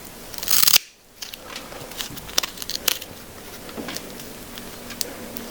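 Scissors snip through moss in a terrarium setup, a loud burst of crisp cutting followed by a few scattered soft snips and crackles, close up and without talk.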